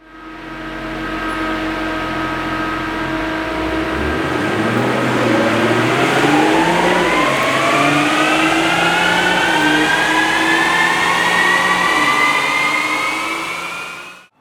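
A BMW Z4 M40i is run on a dyno. Its engine climbs in one long, loud, continuous rev sweep, with the pitch rising steadily for about ten seconds before it cuts off.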